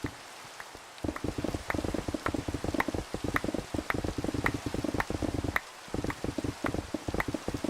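Steady rain in Minecraft patters with dense, irregular drops, dipping briefly quiet near the start and again midway before resuming.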